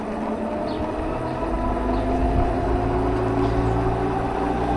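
Heybike Ranger S folding e-bike running under throttle, a steady motor hum and whine mixed with rolling and wind noise, rising slightly in the middle, close and continuous with no talking.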